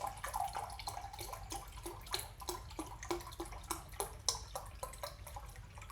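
Liquid pours into a hot pan to deglaze it, a soft, steady splashing and sizzling stream with irregular small drips and clicks, fairly quiet and close, with no talking.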